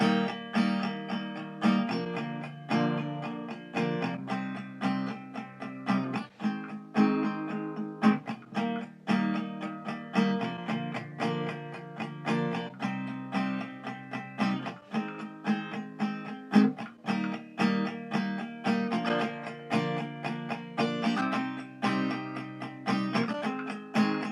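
An acoustic guitar plays a strummed section of a song with steady rhythmic chords, close and clear, without any voices.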